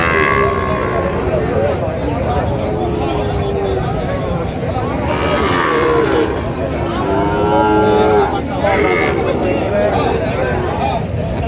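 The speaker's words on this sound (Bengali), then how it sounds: "আমরা এই পাশে আরও কিছু সার গরু দেখতেছি" Several cattle, Sahiwal bulls among them, moo repeatedly over a busy livestock market din in Panchbibi, Bangladesh, with people talking and calling nearby throughout.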